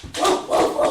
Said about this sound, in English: I have a dog, clearly.